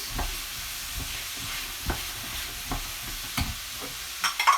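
Carrots and pork rind fry in a pan for cassoulet, a low steady sizzle broken by occasional scrapes and knocks of a utensil stirring, close and fairly quiet with no talk.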